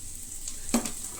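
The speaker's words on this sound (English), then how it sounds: "and then fry" Rice for egg fried rice frying in a pan, a soft continuous sizzle with a brief metallic clink of a utensil stirring partway through.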